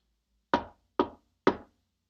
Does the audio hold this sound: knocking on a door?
yes